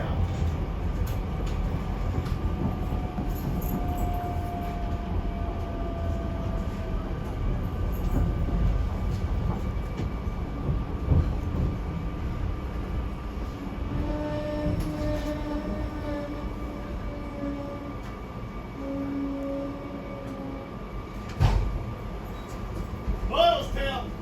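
Regional rail local train bound for Doylestown rumbles steadily along the track, a continuous low interior drone with faint tonal whines and a brief clunk near the end.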